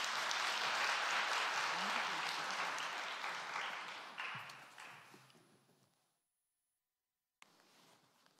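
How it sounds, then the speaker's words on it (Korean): A church congregation at a winter education conference gives loud, dense applause that fades out gradually over several seconds and then stops into silence. Faint room sound returns afterward. "박수 한번"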